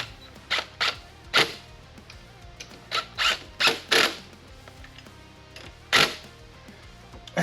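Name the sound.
tightening a pulley puller on a car engine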